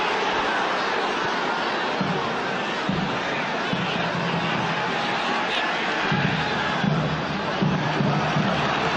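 A football stadium crowd at a 1998 Copa Libertadores group match between Vasco and Chivas roars steadily as fans appeal for a penalty, a dense wall of far-off noise with a commentator's voice running over it.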